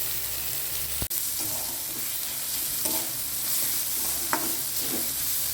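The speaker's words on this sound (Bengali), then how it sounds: "গাজর ক্যাপসিকামটা হালকা ভাজা ভাজা হয়ে গেলে এর মধ্যে আগে থেকে পেঁয়াজ কুচিয়ে রেখেছিলাম, সেই পেঁয়াজ কুচিটা অ্যাড করে দেব" Carrot, capsicum and chopped onion fry in a pan with a continuous close sizzle, broken by a sharp knock and a few soft stirring scrapes.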